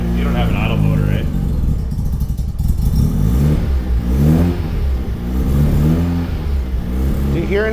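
Mazda RX-7 FC rotary engine running at its first start after years in storage, rising and falling revs in repeated swells, loud and close, with voices talking over it.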